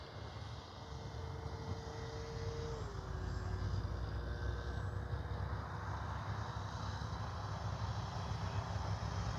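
A light airplane in flight with its flaps up after a touch-and-go, giving a steady, continuous engine and propeller drone with a faint shifting tone, heard alone throughout.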